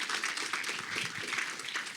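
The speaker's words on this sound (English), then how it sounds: "Round of applause." An audience at a conference breakout skills session gives a round of applause, a dense, moderately distant patter of many hands clapping steadily throughout, with faint voices underneath.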